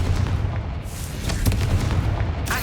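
Confringo fire spell explosion in Hogwarts Legacy, a loud deep boom with crackling bursts and a rumbling blast that fills the whole moment, with no talking over it.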